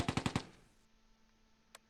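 Distant gunfire in Close Combat II, a quick burst of four evenly spaced shots fading out, then a single faint shot after a pause, with no talk.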